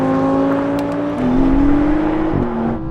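Porsche and BMW M8 accelerating hard side by side in a drag race, loud rising engine drone with clear gear-shift drops, heard from inside one car and continuing without pause.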